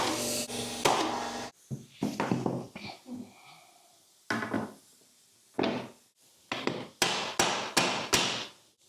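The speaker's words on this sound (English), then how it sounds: "I gotta pull out my nail gun, finish nailer, and then smack some nails in, going in at an angle" Finish nailer firing nails at an angle into the last row of wood flooring: a series of sharp, loud pneumatic bangs, some in quick pairs, separated by short quiet gaps, close by with no talking.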